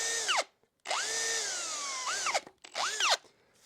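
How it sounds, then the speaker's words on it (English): A power drill bores a hole through a wooden doorframe for a traditional bread oven door, whining in three loud bursts with rising and falling pitch, separated by brief pauses. "You've got your little hole coming through, and then you can just finish off the hole, and that way it leaves a nice clean hole on both sides"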